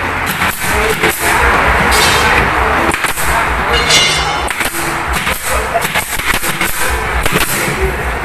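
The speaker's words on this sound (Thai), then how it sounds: "เราต้องทากาวก่อนนะครับแล้วก็ยิงนะครับผม" Nail gun firing into glued speaker cabinet panels in a Thai speaker-box workshop, with sharp repeated cracks scattered over a loud, busy room and talk throughout.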